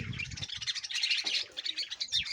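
Java sparrows in a breeding colony chirping and twittering continuously, a dense chorus of overlapping high calls up close with no voices.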